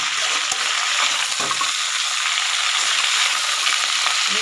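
Vegetables sizzle and fry in a pan for a vegetarian milk-vegetable curry, with a steady bright hiss throughout and a few soft scraping stirs of a spoon near the start.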